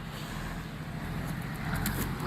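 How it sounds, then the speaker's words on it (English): Rice trucks loaded with grain from the rice fields pass on a rural road on a Dominican Republic farm, a steady, fairly loud low engine rumble with road noise holding throughout. "these are the rice trucks coming from the rice fields full of rice grains"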